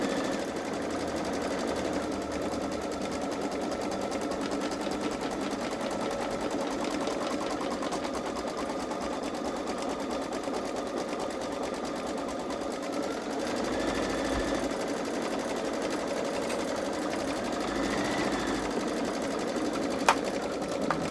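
A Baby Lock Solaris 3 embroidery machine stitches a design, a steady, rapid mechanical whir and needle chatter running continuously at moderate level throughout, with faint occasional clicks and no talking.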